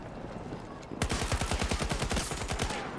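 Rapid automatic gunfire from a Boris sentry turret in Battlefield 2042 bursts in loud and close after a second of quieter background, then keeps up a steady rattle of shots to the end.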